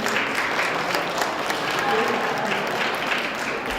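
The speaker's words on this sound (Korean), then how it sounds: "박수 부탁드립니다" Audience at a community media forum breaks into steady, dense applause, a sustained even wash of clapping from a sizable crowd, with faint voices underneath.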